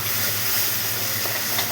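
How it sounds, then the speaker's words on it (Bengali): Cumin, ginger and green chillies frying in a pan give off a steady, close hiss and sizzle, with no talking over it. "আর একটু কষবে, যত কষবে তত ভালো হবে।"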